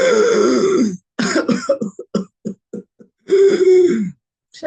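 A voice imitates whooping cough from pertussis: a drawn-out whooping intake, a rapid train of short cough bursts, then another loud noisy whooping inspiration, close and loud.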